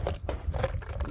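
Metal rifle rounds for an AR15 clink and jingle together as they are handled and loaded, a quick run of close, light metallic clicks with no talk.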